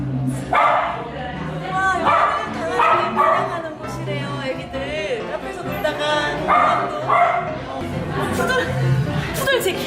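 Several dogs bark and yip in bursts throughout a dog cafe, mixed with people chatting and cooing nearby.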